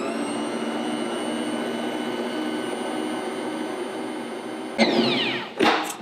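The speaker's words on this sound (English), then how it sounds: "Now all we need to do is mix to incorporate all of this together" Bread dough made with active dry yeast churning in an electric mixer, a steady motorized whir that holds for several seconds, then lurches with a couple of louder bumps and surges near the end.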